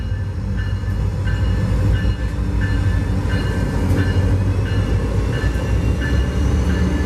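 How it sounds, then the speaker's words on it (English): Train 0710 rolls past at South Lakeland, Florida, a loud, close, continuous rumble of wheels on rail with regular clicking from the rail joints and faint squeal above, no voices. "in 5 more minutes, here he came"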